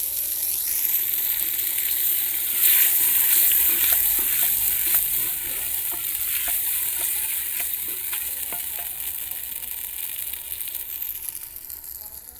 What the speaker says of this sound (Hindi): अब कद्दू डाल दिया है तो इसको थोड़ी देर के लिए फ्राई करूँगी।